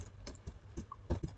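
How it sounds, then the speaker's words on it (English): Keys tapped on a computer keyboard, a handful of separate close clicks in an uneven rhythm, typing text into a search bar, heard alone in a quiet room. "in search bar, here we will type Salesforce Apex code for integration"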